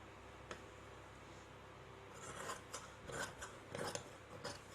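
Scissors cut fabric for a girl's petticoat, making quiet, close snipping and rasping blade strokes that come in short bursts, busier in the second half, with no talking.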